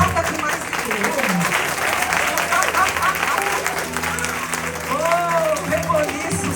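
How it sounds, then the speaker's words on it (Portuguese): A church congregation at a women's worship gathering applauds vigorously in steady, dense clapping that runs throughout, with voices calling out and sustained musical tones beneath. "Aplauda com mais vigor."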